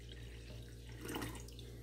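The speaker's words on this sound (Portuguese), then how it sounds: "Eu vou colocar aqui, ó, 240 ml de água" Water is poured into an economical cake batter in a home kitchen, a faint trickling stream that swells briefly in the middle before settling, heard alone and quiet.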